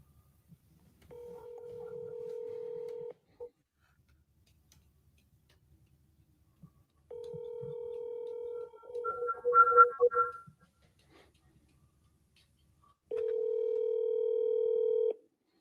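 Outgoing telephone call with a steady dial tone in three separate bursts, the middle one broken by a quick run of keypad dialing beeps, with silence in between.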